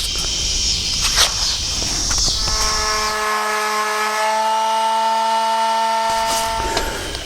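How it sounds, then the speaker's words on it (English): A car wheel cover is sanded with fine sandpaper. Scratchy rubbing gives way to a steady, loud, whining hum for several seconds, then stops. "now we're going to smooth it out the best we can with our finest sandpaper that we have on there."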